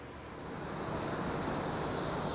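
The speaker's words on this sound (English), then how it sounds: "Walking over a river here, there's an old hydro power plant." River water rushing beside the Appalachian Trail near an old hydro power plant, a steady broadband roar that swells slightly and then holds, with no voices.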